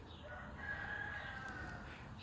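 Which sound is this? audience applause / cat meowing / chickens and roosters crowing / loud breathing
chickens and roosters crowing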